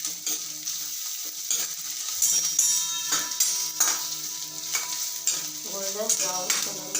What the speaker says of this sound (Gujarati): હવે આમાં ઉમેરીશું આદુ, લસણ, આ પછી ઉમેરીશું. આને પણ હલાવી લઈશું.